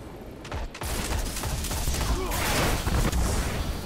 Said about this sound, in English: Freaking Nova Bomb.